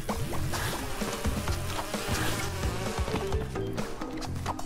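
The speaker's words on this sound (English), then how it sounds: "Not even one bee at a time. It's the whole hive." A swarm of bees in the video game Crash Bandicoot 2, a dense, loud, continuous buzzing drone with game music and effects layered underneath.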